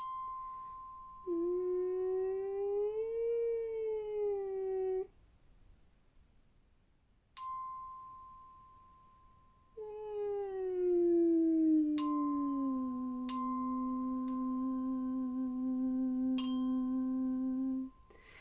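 A single voice sings sustained vocal glissandos that slide smoothly up and down in pitch, with brief pauses between the sweeping glides.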